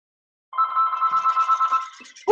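Phone ringing during a call, a loud electronic ringtone that warbles in a steady pulsing pattern for about a second and a half before cutting off abruptly.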